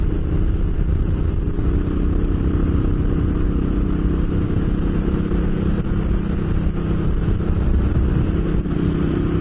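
Several big motorcycles riding off-road in the Gawler Ranges, a continuous loud engine drone mixed with wind and rattling.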